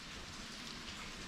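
Steady rain falls outdoors around a house porch under construction, a dense, even hiss of drops with no pauses and no talk, faint but continuous.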